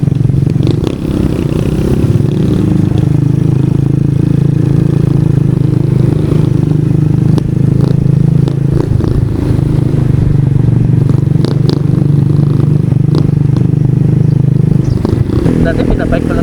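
A motorcycle rides off-road toward a camp spot near an old Spanish-era church, its engine droning steadily and close with clattering and scraping over rough ground, a rider's voice talking over it.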